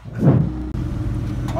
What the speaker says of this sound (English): time for a startup exhaust clip now